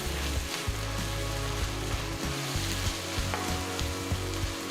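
Ingredients for a paneer dish fry in a pan, a steady close sizzle with a low rumbling hum underneath and occasional stirring scrapes, no voices.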